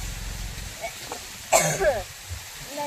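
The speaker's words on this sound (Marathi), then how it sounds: "खोकला लागलाय रे बाबा." A person coughs once sharply at close range, with a throaty rasp trailing after it. Low, faint voices can be heard around the cough.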